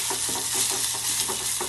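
Peas sautéing in a hot pan with black pepper, sizzling steadily while a spatula stirs them in a regular scraping rhythm, close and alone with no talk.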